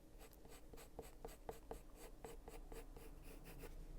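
A pencil blending shading on paper in a hair drawing, with quiet, close, rhythmic scratchy strokes repeating about four times a second, faint and alone.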